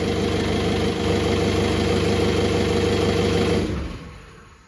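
A VW BEW TDI diesel engine paired with an AW4 automatic idles steadily at about 700 RPM with a close, even, knocking rumble, then fades sharply in the last second.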